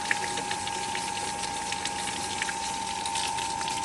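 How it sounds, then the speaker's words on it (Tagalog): An AC/DC water pump set to 600 watts runs steadily, giving a constant, even whir with a sharp steady tone and gushing water noise throughout, with no talk. "Ayan, working na yung ating water pump."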